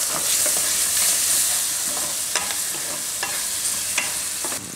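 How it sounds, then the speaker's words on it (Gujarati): Tomatoes cook in a pan for a palak besan shaak with a loud, close, continuous sizzle. A few sharp clicks of a stirring spoon cut through the frying, and no one speaks. "મિક્સ કરીને તરત એમાં આપણે ટમેટા નાખી દઈશું. થોડીક વાર ટમેટાને પાકવા દઈશું."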